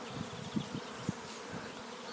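A swarm of honeybees buzzing outdoors near bushes and a willow tree, a dense steady drone with individual bees passing close and loud at moments.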